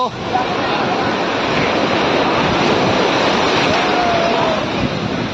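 Ocean waves breaking at Juhu Beach in Mumbai, a loud continuous roar of surf with wind noise buffeting the microphone throughout.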